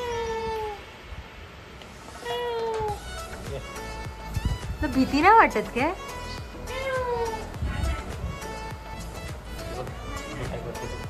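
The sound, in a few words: cat meowing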